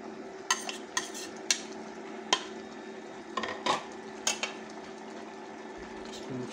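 Chopped tomatoes and green chillies stirred in a pan, heard as a few light scraping clinks at irregular intervals over a steady low background hum, with no talking.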